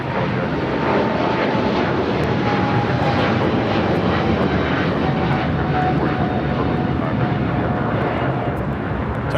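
Jet airliner taking off from the south side of LAX, a steady, loud broadband engine roar that holds throughout, with a faint whine running underneath.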